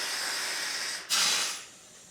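Steam bursts from the Drake Well steam engine at the oil well site, a sudden loud hiss over a steady background hiss that then fades away.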